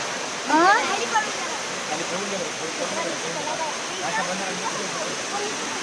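Water rushes loudly and continuously, a steady broad roar of flowing water close by, with people talking over it.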